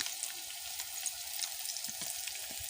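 Chili powder and spices frying in a pan, a gentle continuous hiss and sizzle with faint stirring scrapes, fairly quiet and without speech.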